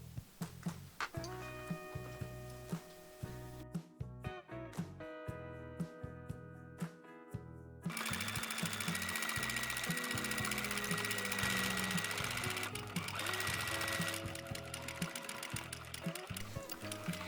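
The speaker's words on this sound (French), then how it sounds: "je vais aller coudre à la machine" A sewing machine stitches fabric for a lavender sachet in steady bursts, its rapid mechanical stitching whirring loud and close, pausing briefly before speeding up again.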